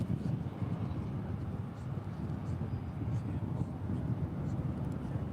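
A BAe 146 jet on runway 20 right at DFW, a distant, steady broadband rumble of airliner engines with wind buffeting the microphone and faint voices nearby.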